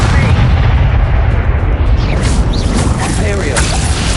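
Bombarda spell blasts erupt in a Hogwarts Legacy fight, loud booming bursts packed together over a constant roar of battle noise, with a voice shouting over the clash.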